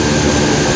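A multi-engine aircraft parked at a hangar in South Africa runs its engines in a loud, close, unbroken roar across one short burst.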